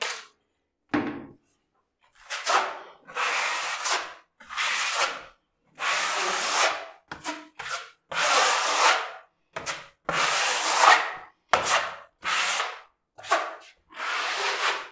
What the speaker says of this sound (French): je vais commencer à tirer la lame à enduire